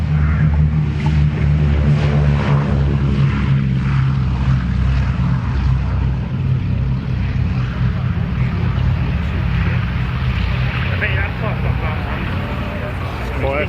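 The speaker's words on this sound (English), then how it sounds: "it's the Boeing B-17G Flying Fortress named Sally B" The Boeing B-17G Flying Fortress "Sally B" at an airshow at RAF Cosford, its radial propeller engines droning loudly and steadily throughout, a thick continuous low rumble with no pauses.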